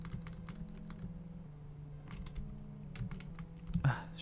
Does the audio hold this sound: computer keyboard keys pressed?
yes